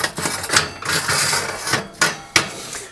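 A metal oven shelf slides back into place inside a Rangemaster cooker, with several sharp clanks and rattling scrapes, close and fairly loud.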